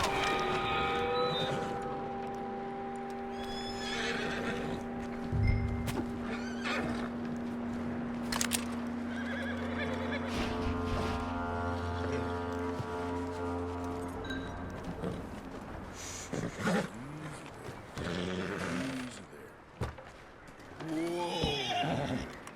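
In Red Dead Redemption 2, a horse whinnies and snorts repeatedly with hooves clopping, set against ambient game sound and a low hum, with more neighs and snorts near the end and a voice talking softly in places.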